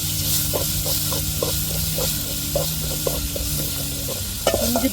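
Ginger and garlic sautéing in a pan, a steady soft sizzle with repeated scraping stir strokes in a regular rhythm, a louder clatter near the end, no talking.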